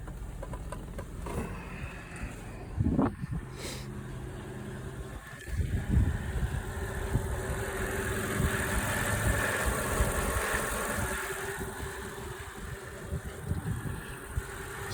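A Mercedes W163 engine idles steadily while warming up, a constant mid-pitched hum with a couple of brief clunks and rises early on, heard close and without talking.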